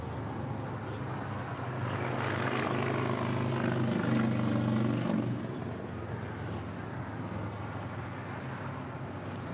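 A Boeing 767-300ER jet on flight 670 to JFK, a fairly faint, distant engine roar that swells in the middle and then fades back.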